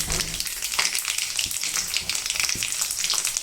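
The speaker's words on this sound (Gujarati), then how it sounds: "રઈ એડ કરીશ જે તતડી ગઈ છે તેમાં હવે આપણે બે લીલા મરચાં એડ કરવા" Green chillies sizzle and crackle in hot oil with already-popped mustard seeds, a steady dense frying hiss with scattered sharp pops, close and loud, no voices.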